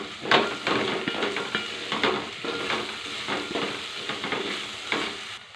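Spinach and chana dal curry stirred in a pan, with steady sizzling frying under repeated scraping strokes of a spoon against the pan, close and fairly loud, with no talk.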